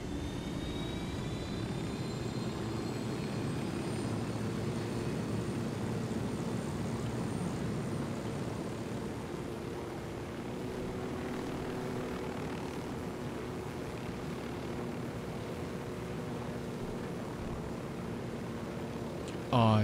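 Steady droning rotor and engine noise of a helicopter in the video game Ghost Recon Wildlands, constant and fairly loud throughout, with no talking.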